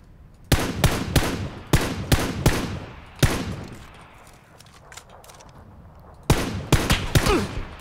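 Bursts of gunfire in the battle royale game PUBG: clusters of loud, sharp rapid shots, a single shot, a quieter lull, then another volley near the end, with no talking.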